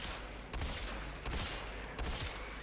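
Rapid automatic gunfire from a weapon in Warframe, a dense, loud stream of shots fired in a few sustained bursts, with heavy low-end punches as rounds hit.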